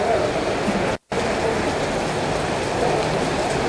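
Rain pours steadily over an outdoor sound system setup with amplifiers and power distribution gear, a dense hiss with one brief cut to silence early on.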